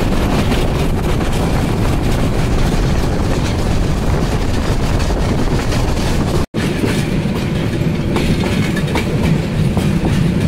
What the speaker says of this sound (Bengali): দুপুর 2:50 ট্রেন ছেড়ে গেল নান্দিনা রেলওয়ে স্টেশন